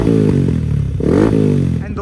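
A race-spec motorcycle on a track blares close and loud, its exhaust note climbing and dropping in two sharp revving bursts with crackling pops in between.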